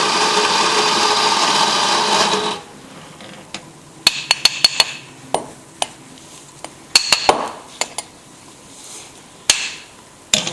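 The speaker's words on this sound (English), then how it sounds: "then we'll grind a little bit more" A coffee grinder runs with a steady whirring roar for about two seconds, then stops, followed by scattered sharp knocks and taps of handling equipment.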